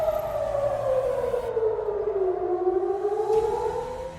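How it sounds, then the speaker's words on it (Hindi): A loud civil defense air raid siren in central Israel wails steadily, its pitch sliding slowly down then rising again, sounding alone in the open. "मध्य इजराइल में सायरन गूंजने लगे।"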